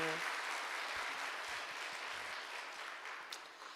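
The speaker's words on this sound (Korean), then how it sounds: "우리 어르신 성도님들이 우리 어린이들 동생들을 위해서 박수 한번 해주세요" A church congregation of elderly members claps for the children at a Saturday worship service, a soft, even wash of applause at low volume that fades gradually near the end, with no speech over it.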